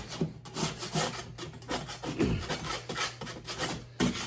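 Scraping loose bits off damaged sheet rock around a hole: repeated rough, rasping strokes close to the microphone, irregular in rhythm, with no talking.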